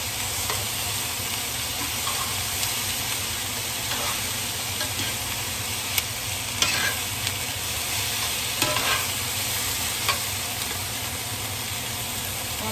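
Browned apples fry in a pan while salt and pepper are stirred through them, a steady close sizzle with soft scraping stirs going on throughout.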